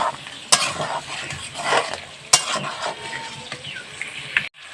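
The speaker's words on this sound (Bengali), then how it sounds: "তো গরম জলটা দিয়ে আর একটু কষিয়ে নেবো" A spoon stirs chicken curry in a pan after hot water is added, producing sharp metal clacks against the pan and wet scraping over a bubbling sizzle before the sound cuts off abruptly.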